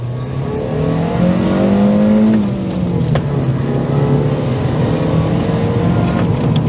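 Fiat Multipla accelerating hard in third gear, a steady engine drone rising in pitch, heard from inside the car with no speech.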